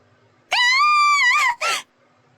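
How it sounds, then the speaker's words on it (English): A loud, sustained scream rings out from inside a manor in a video game, one long cry that wavers near its end and breaks off, followed by a short second burst. "I heard a scream from inside the manor"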